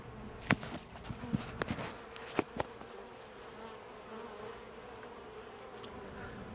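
Honeybees in an observation hive holding three queens hum in a steady, close, continuous buzz, with a few sharp taps and clicks scattered through the first few seconds.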